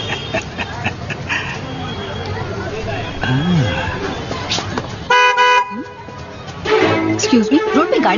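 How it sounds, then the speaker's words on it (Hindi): A car horn honks on a street, with short toots and then one sustained blast among other vehicle noise, while people talk and chatter around it. "खामखा हॉर्न क्यों बजा रहे हो?"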